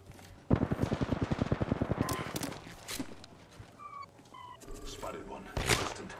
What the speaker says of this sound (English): Ooh, big shots, trying to get this long snipe.